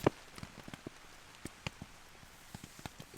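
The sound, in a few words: heavy rain on a tent at night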